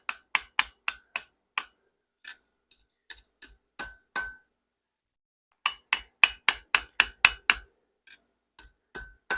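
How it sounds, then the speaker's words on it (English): Rapid bursts of hammer taps on hot metal as scrolls for a forged fleur-de-lis are rolled over the anvil corner, ringing clinks in quick runs broken by short pauses, with no talk. "start to roll the scrolls on the side by tapping on this end and having this locked over the corner of the anvil"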